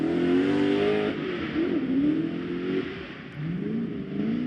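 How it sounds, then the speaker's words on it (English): Ford Mustang with a Coyote V8 revving hard through a drift run at a pro drift qualifying event, a loud, sustained engine wail rising and dipping as the throttle is worked, close and continuous throughout. "Still loud on the pedal, the Coyote motor absolutely singing free"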